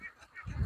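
On a duck farm with flocks of several hundred ducks, a single brief, faint honking call is followed by a low rumble.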